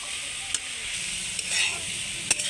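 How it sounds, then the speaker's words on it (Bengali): Grated carrots fry in a pan, a steady close sizzle with a few quick scraping stirs cutting through, brief and without voices. "আর অল্প ফ্রাই করে নেব"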